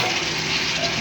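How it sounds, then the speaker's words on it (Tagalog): Potatoes and green chilies hit a hot pan together, giving a steady, dense sizzle of frying that fills the whole moment, close and fairly loud with no break. "sunod natin ang ating patatas saka ating siling green. Ayan, lagay na natin yan sabay-sabay mga guys."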